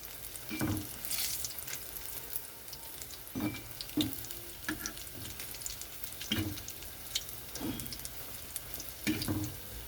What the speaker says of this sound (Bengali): গ্যাসটা কমিয়ে ভাজতে হবে, তা না হলে ভিতরে নরম থাকবে।